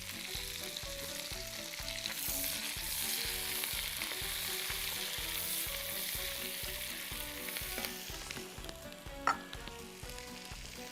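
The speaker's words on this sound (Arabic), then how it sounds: "ادي البصل، وهنحط معاه كمان المشروم" Onions and mushrooms fry in a pan, in fat left over from the cooked meat. A steady close sizzle runs throughout with a regular pulsing undertone and a sharp stirring clatter near the end.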